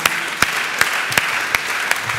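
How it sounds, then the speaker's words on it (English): Applause from the audience closing a day of lightning talks at a Python conference, a moderate, even patter with a few sharper claps standing out at regular moments, no speech on top. "A big round of applause to everybody."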